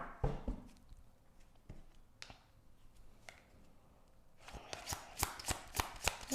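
Tarot cards are shuffled by hand in a messy, uneven way. Soft riffles and taps come first, then a quicker run of crisp slaps and flicks, close and fairly quiet.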